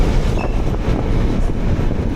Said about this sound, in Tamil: டக்குன்னு ட்ரெயின் வந்ததுங்க உங்களுக்கு காட்டலான்னு சொல்லிட்டு பாருங்க. Goods train.